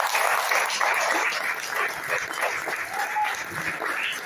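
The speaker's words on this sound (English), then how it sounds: "How about a round of applause for them?" A Las Vegas Rotary Club crowd applauds the Santa Claus chairpersons at a Red Rock Rescue presentation, a dense, sustained wash of clapping from many people, steady and full, with faint voices mixed beneath it.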